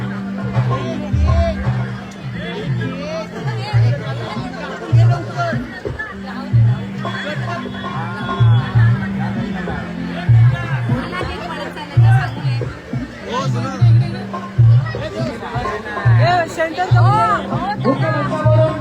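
Dense crowd chatter fills a birthday celebration, a constant babble of many voices with scattered laughter, while amplified music with a steady thumping bass beat runs beneath it throughout.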